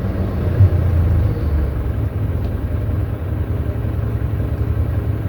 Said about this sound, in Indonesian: mesin pengaduknya